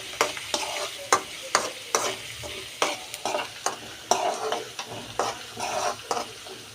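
Crushed peeled garlic frying in hot oil for a green chilli puri tempering, sizzling steadily under a series of sharp, rhythmic stirring clinks and scrapes of a utensil against the pan.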